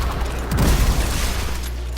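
A grenade launcher in the Destiny 2 video game sets off chain reaction explosions, giving a short, loud booming burst with rumbling low impacts in the middle, and no voice over it.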